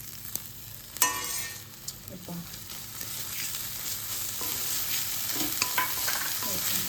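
Grated coconut is stirred into melted jaggery and ghee in a wok, a steady sizzle with scraping spoon strokes against the pan, close up and without voices.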